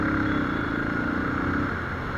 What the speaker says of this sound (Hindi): और ये ट्रैफिक है यार,